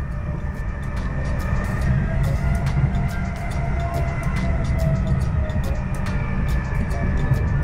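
Inside a Greater Anglia train running at 145 km/h between London and Norwich: a steady, loud rumble of wheels and carriage with a constant hum, plus faint rattles and clicks over the top.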